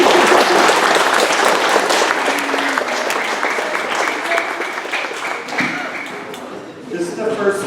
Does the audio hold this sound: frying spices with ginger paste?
no